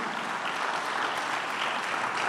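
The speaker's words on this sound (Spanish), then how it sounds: "Hay muchos aplausos hoy porque yo sé que no está fácil la cosa" Church congregation applauding during a sermon, a dense, steady clapping from many hands that holds at an even level throughout, with no speech on top.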